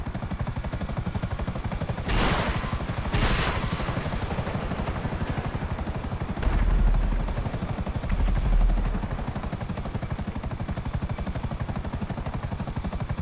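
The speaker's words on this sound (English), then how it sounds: "I see his chopper. Oh yeah, he's way down. Way lower altitude." A helicopter in GTA Online drones steadily through the whole passage with a constant rotor whine, joined by two brief bursts of gunfire early on and a couple of low thumps later.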